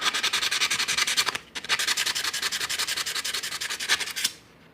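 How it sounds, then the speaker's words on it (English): Sandpaper rubbed back and forth over a Medeco key in rapid, steady strokes, close and fairly loud, with one brief pause partway through before the scraping resumes and then stops. "Get a little bit of sandpaper."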